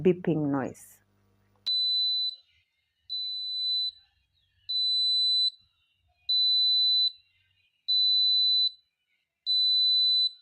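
A prepaid electricity meter's low-credit alarm: a high electronic beep repeats steadily, six long tones with short gaps, loud and close, after a brief bit of speech at the start.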